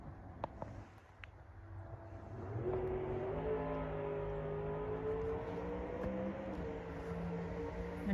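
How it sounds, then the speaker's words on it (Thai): Race car engines under repair near a rural home, heard from a distance: after a quieter stretch with a few light knocks, a steady engine drone rises in pitch and holds as a sustained, slowly wavering rev. "มีแต่เสียงรถ รถแข่ง เขาซ่อมรถแข่งกัน"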